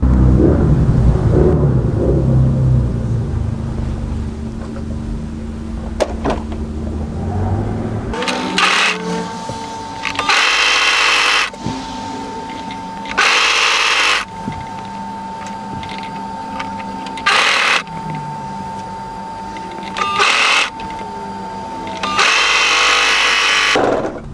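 An overlocker sewing a seam on a hooded A-line jacket and then chaining off, its motor whirring in repeated short loud runs separated by quiet pauses, after a softer stretch of handling at the start.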